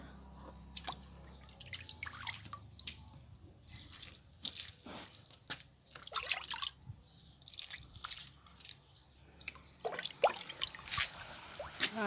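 Liquid kitchen-waste fertilizer is poured onto large garden plants such as hibiscus and country rose, heard as faint, close dripping, splashing and wet squishing in irregular bursts over a quiet background.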